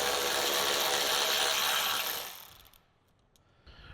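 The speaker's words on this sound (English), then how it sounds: "I have an electric socket wrench." An electric socket wrench buzzes loudly and steadily as it spins off bolts on a Harley-Davidson motorcycle, running for about two seconds before cutting out, followed by quieter clinks of parts being handled.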